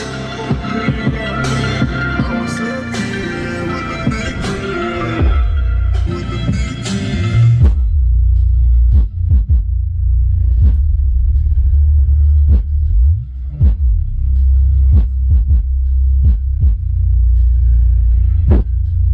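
Royalty-free hip hop thumps through two Skar Audio 12-inch subwoofers inside a Jeep Wrangler JKU cabin, heavy booming bass dominating with a steady beat, brighter full mix in the first seconds before settling into deep, loud rumbling low end.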